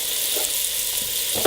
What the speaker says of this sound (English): we're just going to brown this meat, get a nice color crust on it